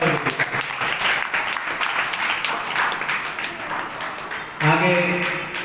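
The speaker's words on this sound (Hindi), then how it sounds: "जोरदार तालियों से स्वागत करेंगे।" Loud, sustained applause from a crowd, dense clapping filling the whole stretch, swelling slightly near the end with some voices mixed in.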